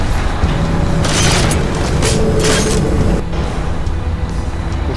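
Grenade blast in the Duke Nukem Forever shooter, a loud sustained booming rumble with crackling bursts that rolls on for several seconds before easing slightly.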